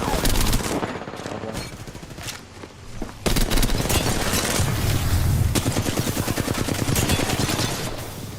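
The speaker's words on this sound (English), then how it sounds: "Shots fired, and they're hitting me." Rapid bursts of automatic gunfire and explosions in the battle royale game Apex Legends, loud and continuous with dense repeated shots through most of the stretch, a brief lull near the start.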